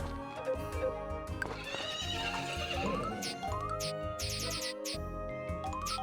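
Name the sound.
horse neighing in Story of Seasons video game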